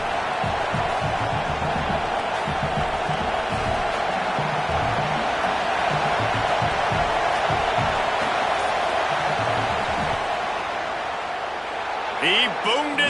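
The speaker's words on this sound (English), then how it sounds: "This crowd trying to do its part to get inside the kicker's head." Broad, steady roar of a stadium crowd during a football field goal attempt, sustained at high volume throughout with a brief burst of extra noise near the end.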